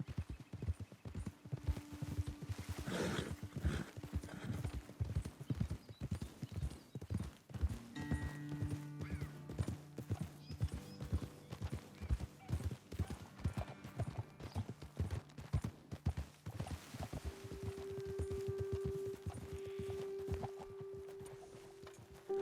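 Steady clip-clop of horse hooves on hard ground in Red Dead Redemption 2, a continuous walking rhythm with an occasional snort or whinny, fairly quiet.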